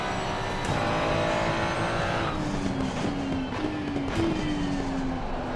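Race cars run at Valencia in the video game Assetto Corsa Competizione, a continuous engine drone with rising and falling gear pitch and several quick upshifts, moderately loud and steady throughout.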